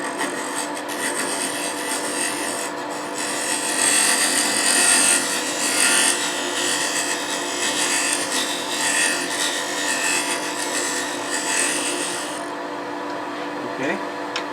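Lathe cutting on a wooden ring turned down over a steel core, a steady broadband scraping and rubbing hiss that runs continuously for the whole stretch, fairly loud and close, without speech.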